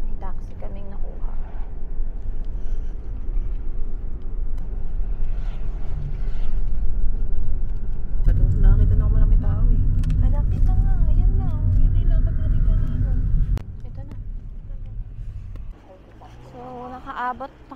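Taxi ride in Taichung, with steady low engine and road rumble from inside the cab that swells midway and eases off, while people talk over it.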